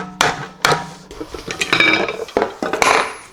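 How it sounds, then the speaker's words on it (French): A hammer strikes metal parts under a barn-find BMW M3 E46 while the subframe and steering rack are being removed, giving a run of loud, close, irregular metallic clanks and knocks in a workshop. "on va jouer du marteau."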